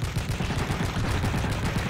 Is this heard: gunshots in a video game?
yes